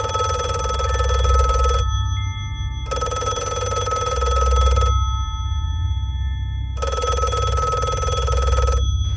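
A telephone rings loudly and close, three long electronic ring bursts separated by short pauses, with a low hum running underneath and no talking.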